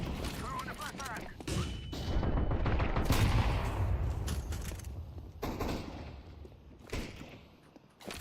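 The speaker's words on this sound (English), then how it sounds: "Grenade out. Throwing a flashbang." Grenade and flashbang blasts in a Counter-Strike 2 match, a mix of sharp bursts and booms over a busy background of game gunfire and movement, loud and cluttered throughout.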